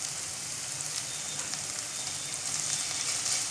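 Vegetables with green chili and garlic paste fry steadily in a pan, giving a continuous, hissing sizzle at close range with no voices over it.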